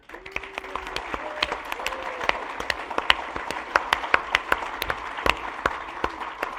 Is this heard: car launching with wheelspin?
no